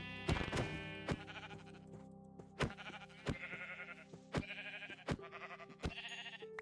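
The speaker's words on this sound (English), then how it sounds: "Sheep." Minecraft sheep bleating in the game, a series of short, clear bleats at a steady rhythm, loud and close over continuous background game music.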